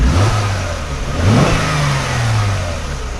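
A 2007 Mercedes E350 4matic's 3.5-liter V6 revs up loudly and alone, rising in pitch to a peak mid-clip, then settling back to a steady, slightly raised hum.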